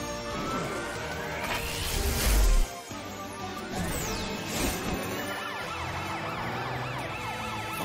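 A cartoon fire truck siren wails through a busy animated rescue scene, sustained and loud with sweeping tones over crashes and background music, and no talking.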